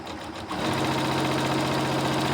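Janome M7 Continental sewing machine stitching a quilt seam, starting after a brief moment and settling into a loud, steady, rapid mechanical hum and chatter of the needle running close by.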